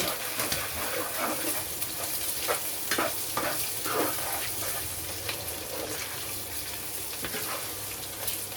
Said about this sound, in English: Just let your garlic cook for about 30 seconds.